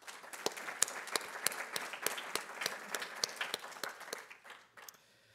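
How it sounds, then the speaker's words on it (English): An audience at a passenger rail summit applauds, a steady burst of many hands clapping for about five seconds before it tapers off and stops. "So how about a round of applause"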